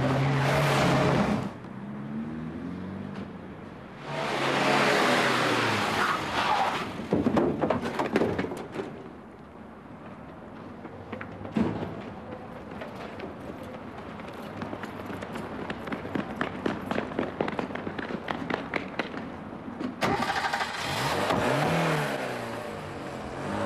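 Cars pass through a street junction at Blenheim Street and Churchill Street, engines swelling and fading as several vehicles go by one after another, with quieter gaps of road ambience between passes.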